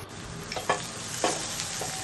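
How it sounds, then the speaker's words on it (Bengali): Onion, garlic and green chili fry in mustard oil for a dried rupchanda fish curry, giving a steady close sizzle with a few spatula stirs and scrapes, and no talking. "সরিষার তেলে আমি পেঁয়াজ, রসুন, কাঁচামরিচ দিয়ে নিয়েছি, তো লবণ দিলাম। এটা একটু ভাজা হওয়ার পর"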